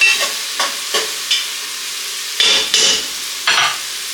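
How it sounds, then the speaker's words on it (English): Onions sauteing in a pan for a garlic shrimp and asparagus dish, with a steady sizzle broken by several sharp scraping stir strokes at irregular intervals, close and clear with no talking. "Couple more minutes of sauteing the onions"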